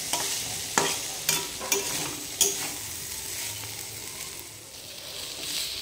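Agra data stalks are stir-fried in a pan, a bright continuous sizzle with four or five sharp scrapes of the spatula early on, then a steadier hiss, close and without speech.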